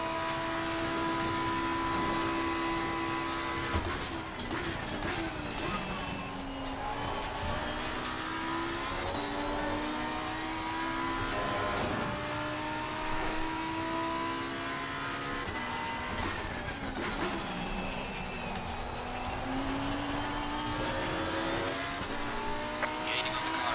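Race cars lap Mount Panorama in Assetto Corsa Competizione, the engine loud and continuous with pitch sweeping up and down through gear shifts, plus some tire squeal and another car nearby.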